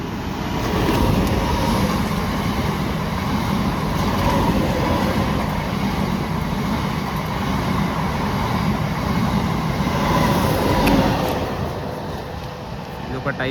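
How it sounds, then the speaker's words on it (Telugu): A MEMU express train, number 17003 on the Kazipet–Balharshah Ramagiri route, runs through a station with a steady, loud rumble of wheels and carriages that holds the whole way and eases slightly at the end. "train number 17003 Kazipet Balharshah Ramagiri memo express"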